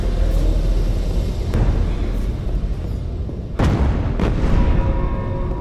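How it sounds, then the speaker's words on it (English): Deep booming explosions in the video game Alien Breed: Impact rumble continuously, with a few sharper blasts bursting out near the end; no voices. "Yeah, more explosions."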